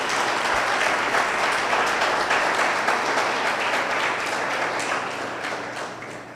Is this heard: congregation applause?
yes